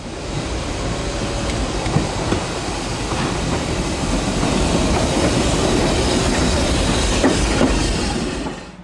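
Narrow gauge steam train hauled by the locomotive Prince rolls in, close and loud, with continuous rumbling wheels and clickety-clack over rail joints, the noise building slightly then easing at the end.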